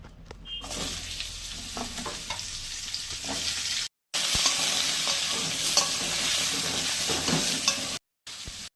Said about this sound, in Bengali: মাছগুলো ভেজে তুলে নিচ্ছি, আরও আছে ভাজবো। আর পটল আলুটাও ভেজে তুলে নেব